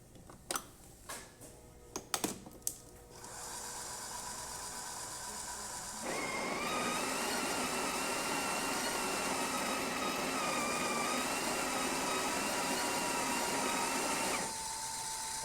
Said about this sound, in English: So let's go ahead and test it with the espresso shot